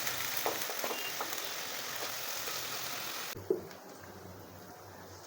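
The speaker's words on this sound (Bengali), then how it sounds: "এই পেঁয়াজটাকে আমি একদম লো আঁচে রেখে বেশ কিছুক্ষণ ধরে" Onion paste slowly sautéing on low heat gives a faint, quiet sizzle that softens partway through after a brief knock, with no one talking.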